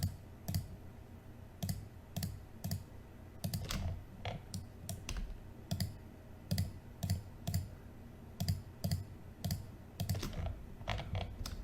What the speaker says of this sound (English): I'm going to click one at a time like that